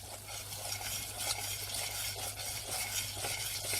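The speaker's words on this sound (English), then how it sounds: "And then whisk it around." Sugar being whisked into a siomai chili sauce in a pan, a steady close scraping and stirring with a faint sizzle underneath, continuous for a few seconds with no talking.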